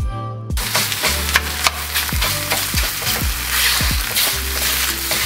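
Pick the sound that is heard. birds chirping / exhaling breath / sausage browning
sausage browning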